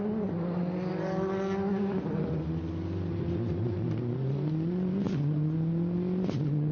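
Rally car storming past on the Goodwood SpeedWeek rally super special, its engine loud and close, revving and shifting through gears as the pitch climbs and drops over several seconds.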